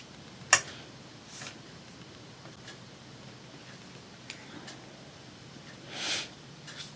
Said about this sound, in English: Excuse my sniffles.